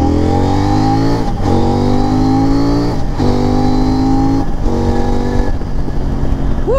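CFMOTO 800MT 2023 touring motorcycle accelerating hard from a standing start, its engine note climbing steadily through several gears with brief dips at each shift, loud and close throughout.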